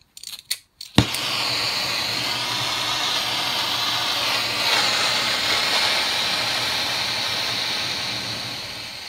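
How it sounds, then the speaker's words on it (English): Oxy-acetylene welding torch with a number 1 tip burning a carburizing flame while welding bicycle tubing: a few sharp clicks and pops at the start, then a steady, loud, broadband hiss that holds evenly to the end. "Can see we're still on a carburizing flame there."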